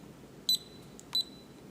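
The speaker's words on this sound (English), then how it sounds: "this digital speed controller has been beeping loudly at various points during this recording" An ELECYLINDER digital speed controller gives two short, sharp electronic beeps about half a second apart, clear and close against a quiet background.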